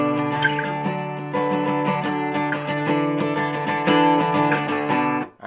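Electric guitar plays the intro riff of a song, a steady run of sustained, ringing chords and picked notes with a continuous, even loudness, heard alone and up close.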